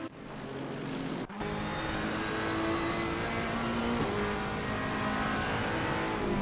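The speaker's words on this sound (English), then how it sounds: "A very rare onboard here on TRTM, but from the Ferrari 488 GT3 Evo" Onboard engine of a Ferrari 488 GT3 Evo, a V8 GT race car, lapping Brands Hatch in a racing video game, a loud sustained engine drone with a brief dip early on, then steady high revs, no voices.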